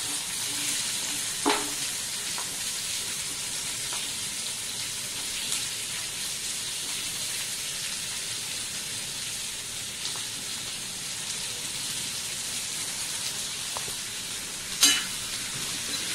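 Ivy gourd (tondli) stir-frying with turmeric in a pan, a steady close sizzle with occasional sharp spatula clicks and scrapes, no talking.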